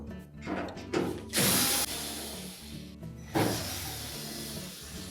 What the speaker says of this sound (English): we'll remove this support piece by taking out two screws on either side